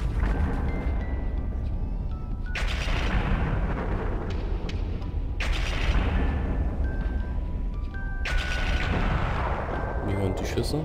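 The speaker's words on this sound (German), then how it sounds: "Wir hören die Schüsse, wie gerade seine Frau ermordet wird." Gunshots in the PC video game Max Payne: three loud booming blasts spaced a few seconds apart, each with a long echoing tail, amid game ambience with some speech.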